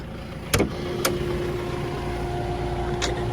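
A Roxor turbo diesel utility vehicle sets off for a drive, its engine holding a steady mid-pitched hum with a few sharp clicks and knocks near the start.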